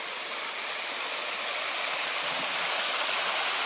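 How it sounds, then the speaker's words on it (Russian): A water fountain feature in a Luxembourg city setting, a steady broadband rush of falling and splashing water heard close and continuous with no other sounds. "И опять какие-то здесь конструкции с водой."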